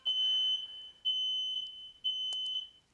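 A smoke alarm set off by an oven sounds three loud, piercing beeps in a steady rhythm, each about half a second long, with short gaps between them.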